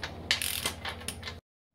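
A nut being tightened on a Honda XL250 motorcycle frame during reassembly gives a close, brief run of ratcheting clicks and metallic scrapes lasting just over a second, then stops to silence.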